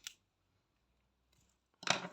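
Scissors snip through crochet yarn in a quiet room: a brief click at the start, then a louder, crisp cutting snip near the end.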